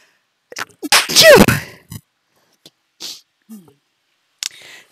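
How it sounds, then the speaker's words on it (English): A single loud, close sneeze bursts out near the start, followed by quiet pauses and a few small clicks and handling noises. "I didn't want to sneeze in your face"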